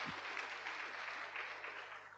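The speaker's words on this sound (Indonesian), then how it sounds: "boleh beri tepuk tangan" A church congregation claps in response to a sermon, a brief burst of dense applause from many hands that tapers off over a couple of seconds, heard at a moderate distance with no talking.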